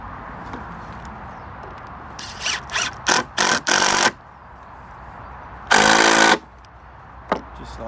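Screws being driven into a wooden pallet planter with a power drill: a run of short, loud whirring bursts followed by one longer burst and a brief final tap, over quiet background.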